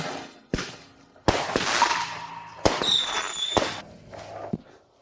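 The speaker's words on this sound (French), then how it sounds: "Ces feux d'artifice n'étaient-ils pas incroyables?" Fireworks at a birthday celebration burst in several sharp cracks spread across a few seconds, with whistling and crackling trails between the bangs and no talking.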